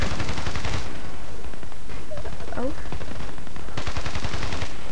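Gunfire from an M95 sniper rifle in the online shooter Battlefield Play4free, with bursts of loud, sharp shots at the start and end around a quieter middle holding a few brief tonal game sounds.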